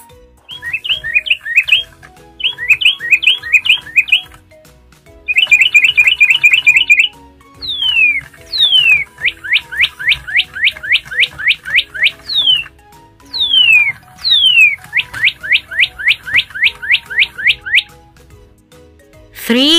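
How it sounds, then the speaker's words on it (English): Birds chirp loudly and close in repeated bursts of quick high tweets and rising whistled calls, separated by short pauses, with no other sound around them. "birds."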